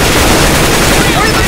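Loud, dense gunfire from a CS:GO match rattles continuously in a short, saturated burst, with a player's voice mixed in.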